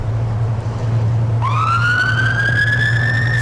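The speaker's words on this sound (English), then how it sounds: "Fire engine goes down Woodbridge Road towards the town centre" A fire engine siren wails along Woodbridge Road toward the town centre, its rising tone sweeping in partway through and holding steady and loud over a constant low hum of crowd and ground noise at a cricket match.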